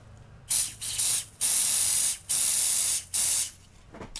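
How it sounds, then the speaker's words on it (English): Five sharp bursts of aerosol nail glue dryer spray, each a steady hiss lasting about half a second, close and loud with short pauses between. "And now we're going to spray it with nail glue dryer."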